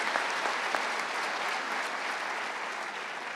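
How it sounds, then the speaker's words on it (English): An audience at a scholarship awards ceremony bursts into steady applause, a dense wash of many hands clapping throughout, fairly close, without speech. "So let's just give Croswell folks a big round of applause."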